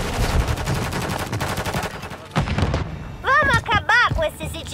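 Gunfire in Call of Duty: Modern Warfare III rattles in rapid automatic bursts with heavy thumps, loud and close, followed by shouted voices and game sound effects.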